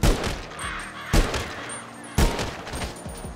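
Special Carbine and Service Carbine rifles fire in a video game: three separate loud, close shots about a second apart, each a sharp crack with a brief rumbling tail.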